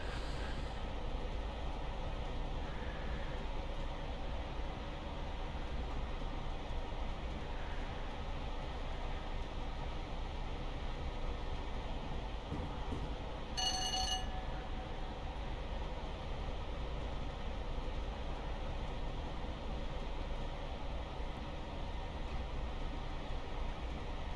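A Class 377 electric multiple unit passes in the Train Simulator Classic game, a steady rolling rumble and rail hum running throughout at a constant level, with a brief sharp horn-like tone partway through.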